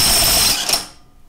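A brief, loud burst of an impact wrench hammering rapidly while removing a Briggs and Stratton clutch, then cutting off abruptly into quiet.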